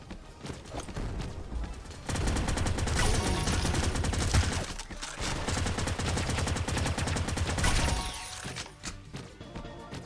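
Rapid gunfire in the PvP battle royale video game Skillshot City, dense bursts of repeated shots in two long volleys separated by brief pauses, loud and up close with no talk.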